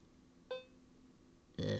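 A 1979 Parker Brothers Wildfire electronic pinball game gives two short electronic beeps about a second apart, the first a thin tonal blip and the second a louder, fuller burst, heard close in a quiet room.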